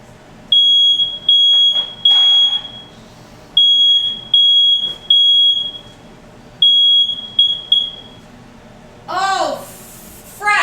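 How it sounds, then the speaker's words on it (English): A smoke alarm blares in a home kitchen while French onion soup is being cooked, sounding in loud, repeated high-pitched beep bursts with short gaps, ending in a harsher crackling burst. "my alarm's gonna go off"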